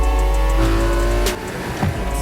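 A race car engine revs hard and steadily at the start of a street race, loud and close, with the pitch shifting partway through.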